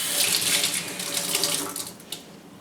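Cold water runs from a kitchen faucet in a steady, hissing stream, close and fairly loud, with a few splashes as the flow shifts near the end; no one speaks.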